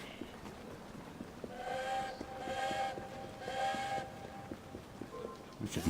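Train in the video game Assassin's Creed Syndicate, set in London: a steady rail rumble with a drawn-out whistle tone that swells twice over several seconds, at moderate distance.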